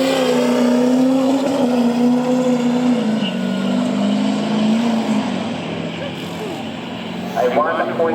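A Toyota Hilux making a drag strip run at a King of the Strip event, its engine roaring loud and steady as it accelerates hard, with the pitch climbing and then easing, under continuous commentary.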